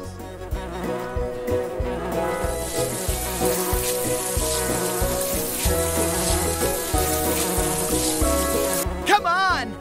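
Steady insect-like buzzing of bumblebees runs through a busy musical backing in a nature cartoon, loud and continuous for the whole stretch with no pauses.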